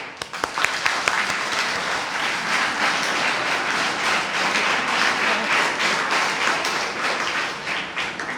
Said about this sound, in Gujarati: વાહ, એના માટે તાળીઓ પાડીએ.